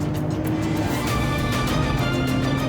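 Car driving along with a constant engine and road hum, moderately loud and steady throughout, with no clear acceleration or pass-by.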